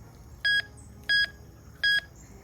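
A Ricomax GC-1037 metal detector sounds over a 2020 quarter: three short, identical electronic beeps, evenly spaced and fairly loud, with no talking.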